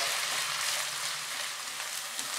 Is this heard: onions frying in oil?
yes